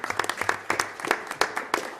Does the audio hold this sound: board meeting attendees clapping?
yes